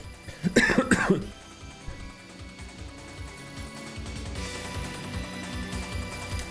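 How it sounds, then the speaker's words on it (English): A short burst of two or three harsh coughs near the start, close and loud, followed by quieter background noise. "So that cough every now and again comes back to me."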